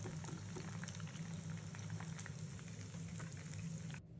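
Mushrooms deep fry in hot oil, a dense, steady bubbling sizzle held close and continuous before cutting off abruptly at the end.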